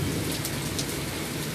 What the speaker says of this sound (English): Rainy night, rainy, stormy night.